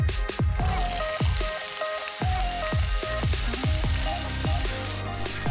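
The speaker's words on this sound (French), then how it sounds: "dans la même poêle, mettez un peu d'huile et versez-y les légumes" Courgette and onion frying in an oiled pan, a loud continuous sizzle broken by a run of sharp spattering pops and crackles, close up, without talk.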